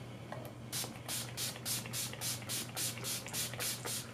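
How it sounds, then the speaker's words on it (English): Rapid, close spritzes of makeup setting spray onto a face, about ten short bursts in a quick rhythm, each a bright hiss with a tiny pause between. "I'm just going to spray this all over my face."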